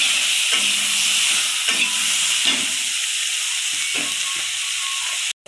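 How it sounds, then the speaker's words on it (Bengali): Potatoes and bitter gourd frying in a pan give a loud, steady close sizzle and hiss, broken by a few clinks and stirring scrapes, then a sudden cutoff at the end. "আলু উস্তেটা দিয়ে দিচ্ছি, এটা একটু ভেজে নেব।"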